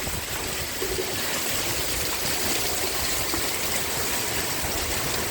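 Heavy monsoon rain driven by strong wind in Pattani, southern Thailand, a dense, steady roar that holds at the same level from start to finish with no voices.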